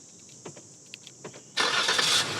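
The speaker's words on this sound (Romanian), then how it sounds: "Pornești motorul din cheie." A Lincoln MKX with a 2.7 V6 turbo engine is started remotely from the key fob, with a few soft clicks first and then a sudden, steady rush of engine noise that holds to the end.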